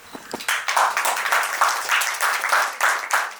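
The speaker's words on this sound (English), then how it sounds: "A round of applause, please." Applause at a health festival talk, a moderately loud burst of claps from a small audience lasting a few seconds, fairly close with dense overlapping hand strikes.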